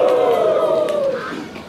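A church congregation raises a loud, short collective cheer, a surging mass of voices that fades slightly after a second. No distinct clapping stands out.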